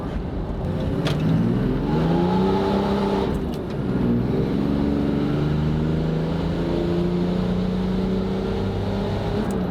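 A twin-turbo 6.0L Ford truck diesel engine (2006 model) pulls hard under acceleration, a loud steady engine roar with rising and falling harmonic tones as the revs climb, shift and climb again, close and continuous.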